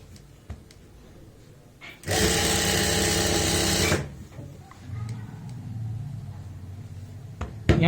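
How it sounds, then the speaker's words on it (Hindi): Sewing machine stitching the lining of a pair of pants, a loud steady two-second burst of running stitches that starts and stops abruptly, with quieter handling and room sounds before and after. "और ऐसे हम यहाँ पे सिलाई लगाते जाएंगे।"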